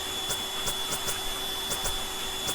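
The vacuum tool in the video game Teardown drones steadily with tonal hums, punctuated by rapid clicking or crackling bursts as debris is sucked in, with no talking.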